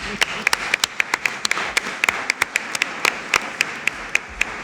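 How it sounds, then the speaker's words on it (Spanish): An audience of people at a talk on gender violence against older women claps together in scattered, crisp applause, with individual sharp claps standing out over a steady patter for several seconds. "Vamos a darnos un aplauso entre todos por haber venido."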